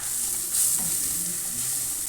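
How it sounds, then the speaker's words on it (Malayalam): Ginger garlic paste and cumin seeds sizzling in a pan for egg biryani, a loud steady frying hiss with light stirring scrapes, close and uninterrupted throughout. "ഇഞ്ചി വെളുത്തുള്ളി പേസ്റ്റ് അതിലേക്ക് ഇട്ട് കൊടുക്കുന്നു."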